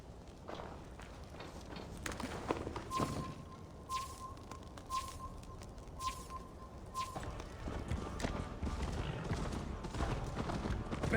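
Horse hooves clip-clopping and galloping along a track in Assassin's Creed Valhalla, a fast repeating rhythm under game music and ambience, with a thin whistling tone partway through and voices talking.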